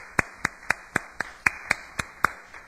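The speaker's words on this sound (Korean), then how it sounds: "성경 일독하신 분들을 위해서 박수 한번 보내주시면 고맙겠습니다" Sharp, evenly spaced claps sound in a church service, about nine crisp beats at a steady quick rhythm, close and clear with nothing else around them.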